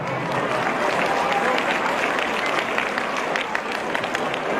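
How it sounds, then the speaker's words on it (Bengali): A concert audience applauds loudly and continuously at a live music event, a dense, steady wash of clapping that fills the space with no pauses. "তাদের জন্য একটা জোরে হাততালি।"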